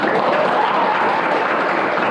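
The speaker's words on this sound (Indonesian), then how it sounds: "Sekali lagi Bapak minta tepuk tangan buat semuanya." Applause from a group of participants in a teacher coaching session, a dense, steady wash of clapping that holds evenly for about two seconds.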